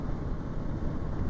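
Bajaj Pulsar NS200 motorcycle engine running, a steady low-pitched hum with a faint rhythmic throb, fairly quiet and continuous, no voices.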